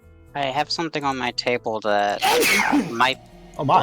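A person sneezes loudly in the middle of a tabletop role-playing session, a sharp burst set between stretches of nearby conversation.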